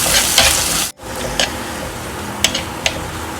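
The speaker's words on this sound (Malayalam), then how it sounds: "അരപ്പും ചേർത്തൊന്ന് ഇളക്കി ലോ ഫ്ലെയിമിൽ നമുക്ക് ഈ അരപ്പൊന്ന് മൂപ്പിച്ചെടുക്കാം." Ground spice paste fries gently in oil over a low flame, giving a steady soft sizzle. A spoon stirs it with a few sharp scrapes and taps against the pan, and there is a short break near the start.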